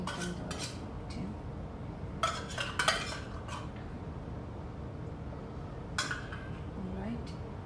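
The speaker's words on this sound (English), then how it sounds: "scraping out everything from the tin" A utensil scraping out a tin while making white chocolate panna cotta, with a few scattered bursts of metallic scraping and clinking between quieter stretches.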